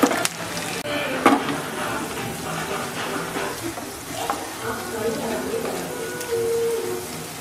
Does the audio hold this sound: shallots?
yes